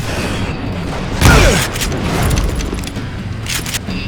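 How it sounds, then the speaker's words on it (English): Gunfire in the Western shooter Call of Juarez: Gunslinger, with one loud booming shot near the middle standing out over a busy game soundscape and further faint shots following. "We're under fire!"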